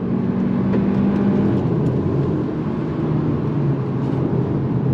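A 2024 Hyundai Elantra N-Line accelerates hard in second gear toward 6,500 RPM, a steady loud engine drone heard from inside the car without talk.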